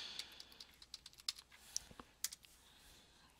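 Quiet, quick keystrokes tapped on a computer keyboard in an irregular burst, each click sharp and distinct, with no voices.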